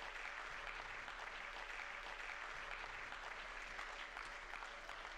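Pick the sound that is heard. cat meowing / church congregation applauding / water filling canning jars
church congregation applauding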